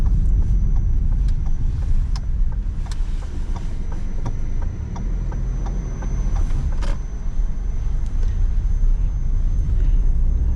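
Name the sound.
Suzuki Swift car driving off-road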